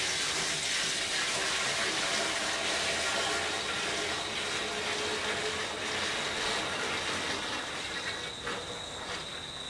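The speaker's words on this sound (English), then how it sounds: "Now I shall pour the oil from the first wash back into the 50 litre container." Oil from a first biodiesel wash pours steadily into a 50 litre container, a continuous splashing, trickling rush running throughout with faint insect-like chirring in the background and no talk.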